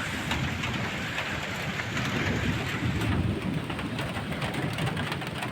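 Heavy rain falls steadily and loudly, a dense, constant hiss of drops with a low rumble beneath and no voices.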